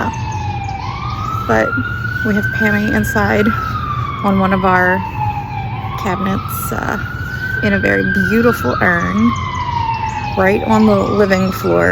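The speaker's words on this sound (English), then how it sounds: "I'm sorry if you can hear that cop car or ambulance or whatever in the background." A police or ambulance siren wails past in a city street, its rising and falling sweeps loud and continuous for the full twelve seconds behind someone talking.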